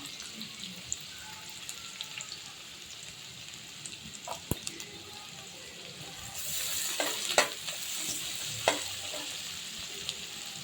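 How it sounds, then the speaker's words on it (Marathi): Chopped onion roasting in a pan for a curry makes a quiet, steady sizzle that swells louder and hissier about two thirds through, with a few light scrapes and knocks and no speech. "थोडंसं भाजू द्यायचं"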